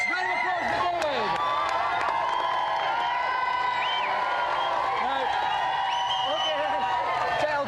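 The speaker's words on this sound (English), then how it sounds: "Round of applause for David." A studio audience on a TV game show cheers and claps continuously throughout, a dense crowd roar with whoops rising above it and steady applause underneath.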